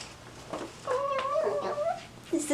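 A pet cat gives a few soft, wavering meows and chirps, close by and moderately loud, with a brief higher call near the end and no talking.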